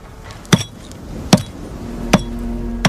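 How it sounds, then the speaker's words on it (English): A hammer strikes a steel wedge to split stone in an ancient quarry, four sharp ringing metallic blows spaced evenly about a second apart, close and distinct over a low background hum. "The rock is split using a hammer, a wedge, and the stonemason's skill."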